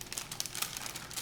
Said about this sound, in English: Peel off the parchment.